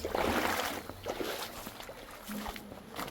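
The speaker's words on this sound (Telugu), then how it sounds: "సీదా వాటర్లో నడవాలి ఇప్పుడు." Feet wade through icy stream water in a forest, a steady splashing and churning of water that stays close and continuous throughout.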